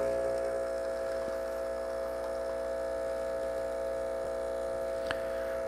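A Breville Barista Express espresso machine runs its pump in manual mode, a steady close electric hum and buzz that holds without a break, with no one talking.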